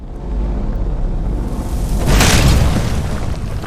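A fire spell bursts in Skyrim with a loud, rumbling boom that swells to a peak partway through and keeps roaring without any speech.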